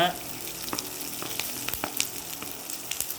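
Chopped onion, ginger, green chili and curry leaves sauté in a hot pan for masala dosa filling, giving a steady close sizzle with brief scraping stirs and no speech.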